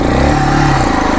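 A modified Bajaj Pulsar 220 motorcycle engine revs loud and close, a short rough burst whose pitch rises and then drops off within about a second.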